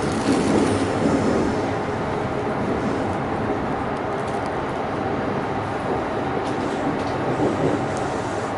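A Kintetsu train rumbles steadily close by, a continuous low roar of wheels on rails with faint rattling, holding level throughout as it rolls into the station.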